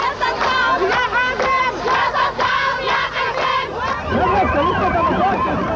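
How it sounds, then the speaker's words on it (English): A large crowd of Palestinians cheers and chants loudly, many voices rising and falling together in rhythmic waves, close and dense throughout with no pause. "Palestinians cheer Saddam Hussein."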